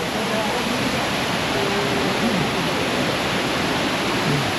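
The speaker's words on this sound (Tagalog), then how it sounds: "Tingin tayo doon sa waterfall." Steady, loud roar of a waterfall at a resort, broadband rushing water filling the whole clip with no pauses; low voices are faintly present beneath the noise.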